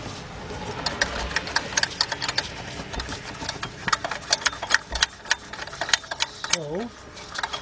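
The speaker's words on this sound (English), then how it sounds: "I have to be able to use my ratchet to swing it, get a good swing on my ratchet" A ratchet turns a bolt on the 3.0-litre engine of a 2003 Honda Accord, heard as rapid close clicks in a steady run beneath someone speaking.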